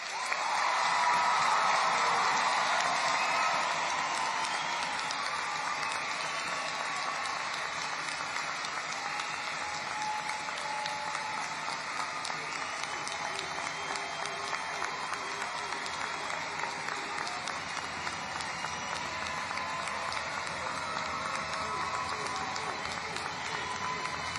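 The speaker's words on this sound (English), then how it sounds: "Let us show our appreciation and gratitude with a round of applause." Sustained applause from a large audience at a high school graduation ceremony, steady and dense clapping that swells at the start and continues evenly throughout.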